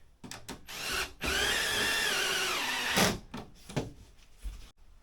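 Close power drill driving screws to fasten corner trim onto a jacket, with one long steady whir of the motor flanked by short clunks and brief bursts.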